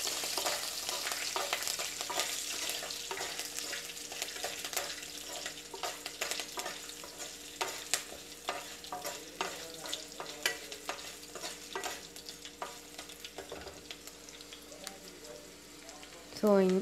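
Green chillies frying on a medium flame for tomato rice, a steady crackling sizzle broken by frequent clicking stirs of a spoon in the pan, with a voice occasionally present.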